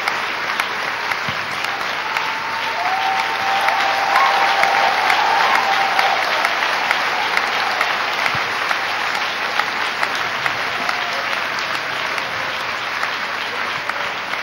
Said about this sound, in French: dans les acclamations, nous allons accueillir notre pasteur